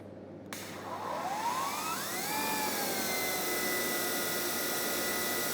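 An Ego 2100 cordless battery-powered pressure washer sprays steadily at close range, its motor whine rising in pitch as it steps up to a higher power setting, then holding a loud, continuous hissing roar.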